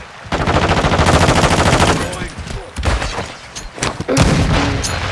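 Rapid bursts of automatic gunfire in Call of Duty, loud and close, a dense rattling stream for about two seconds followed by scattered single shots and another sustained burst.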